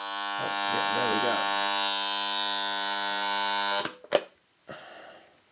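A Philips HR5272 flip-roll clock's alarm gives off a loud, steady electric buzz that runs for several seconds and then cuts off abruptly with a few clicks, and someone speaks briefly over the buzz.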